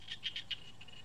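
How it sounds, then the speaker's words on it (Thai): Frogs croaking in a flooded rice field, four or five short chirping calls in a quick irregular run and then fading, fairly faint against quiet background. "ว่าเสียงเขียดนะพี่น้องเสียงกบเสียงเขียดนะ"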